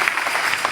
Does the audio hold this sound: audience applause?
yes